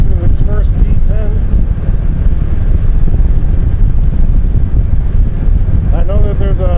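Steady wind roar buffets an LS2 OF569 track helmet with the face shield cracked open at 55 mph, a loud continuous rush that fills the whole clip, with a rider speaking briefly at the start and end.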